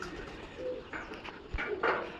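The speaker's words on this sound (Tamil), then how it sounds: "புறாவை பாருங்கள் எவ்வளோ புறா வளர்க்குறாங்கன்னு" Caged pigeons coo in soft, low, throaty bursts, a few calls close by with brief chirps mixed in over a quiet background.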